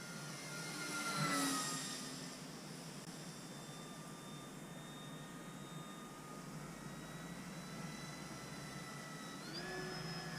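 A Durafly Supermarine Seafire MkIIB 1100 mm electric RC model plane on a 3S battery flies overhead with a thin, whining motor drone that swells as it passes close early on, then holds steady and rises again at the end.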